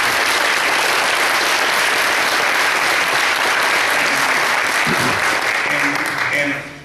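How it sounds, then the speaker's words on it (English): Loud, sustained applause from a meeting audience welcoming a speaker, dense clapping filling the room for nearly seven seconds before tapering off at the end. "Give this man a round of applause."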